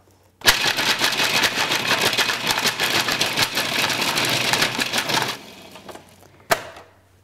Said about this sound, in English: Just take about a half a cup of almonds and you run them in your food processor